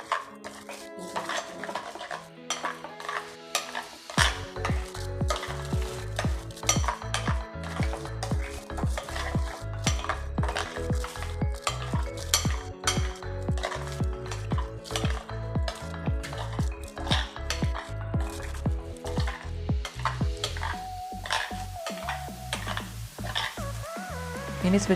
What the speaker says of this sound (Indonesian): Kita aduk ya guys.